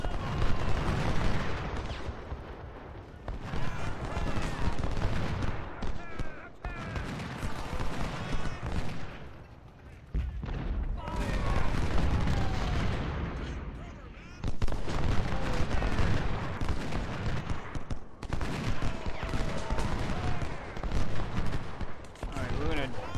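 Massed musket and artillery fire from an 1862 Peninsula Campaign battle in the Ultimate General: Civil War game, continuous crackling volleys and distant booms throughout, with someone talking over the battle noise at times.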